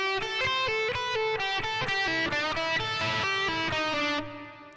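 Overdriven electric guitar plays a standard bluesy lick from a country-blues solo at reduced speed, quick bent and picked notes ringing close and loud, tapering off at the end.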